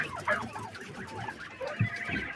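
Heavy-breed quails cluck and chatter softly while being handled for weighing, a dense close mix of small bird calls and rustling with a few louder squawks.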